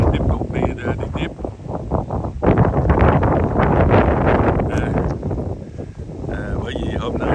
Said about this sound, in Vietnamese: Bởi vì hôm nay là bị mưa gió.